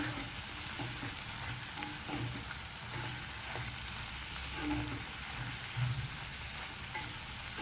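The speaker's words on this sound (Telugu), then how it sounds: "ఇదంతా ఆయిల్లో బాగా వేగాలి" Sprouts and green peas frying in oil, a steady close sizzle and crackle running throughout, with occasional soft stirring knocks.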